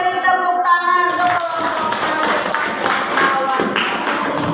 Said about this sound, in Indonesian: Silakan beri tepuk tangan untuk